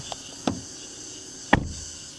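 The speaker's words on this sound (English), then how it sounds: "despite having the frameless doors, the closing sound is surprisingly solid." The frameless door of an Xpeng MONA L03 electric car shuts in two solid thuds about a second apart, each one a short, dull knock with a light rattle after it.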